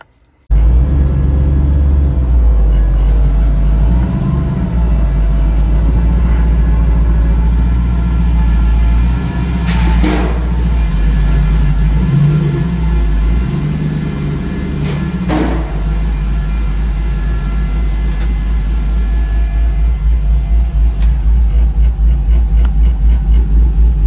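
A car engine idles steadily throughout, its low exhaust rumble continuous and fairly loud but subdued. It is a drag-race car being readied for a trailer trip to Sick Week, and a quieter radiator fan has been fitted. Two brief sharper noises break in partway through.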